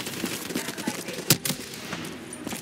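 Gunfire from a firefight in Call of Duty Black Ops 3, a steady crackle of shots with a couple of sharper, louder bursts in the middle and voices mixed underneath.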